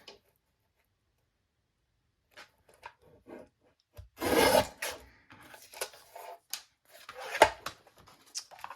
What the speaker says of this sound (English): grab my trimmer real quick and just trim off that little bit